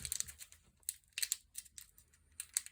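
Crinkly plastic foil of a Pokémon card booster pack from a Solgaleo and Lunala Cosmic Eclipse set being worked open from the bottom, in short bursts of crackling and tearing, close and fairly quiet, with no talk.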